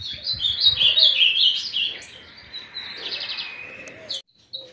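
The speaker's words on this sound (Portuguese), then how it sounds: "Tem outros passarinhos por ali." Small birds chirp and tweet in a run of bright, quick calls at moderate distance, busy at first and then thinning to sparse chirps at a home aviary under construction.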